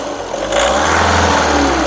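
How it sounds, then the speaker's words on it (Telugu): A 2015–16 Volkswagen Polo Highline's engine revs loudly and steadily, a deep rumbling roar that rises and holds close by for the whole stretch. "एक बार रेस दे दो गाड़ी को"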